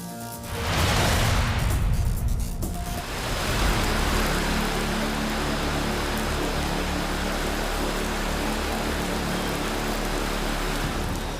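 Heavy rain pours steadily during a night of flooding in Bengaluru, a dense continuous hiss with a louder gusting surge near the start, and no voices.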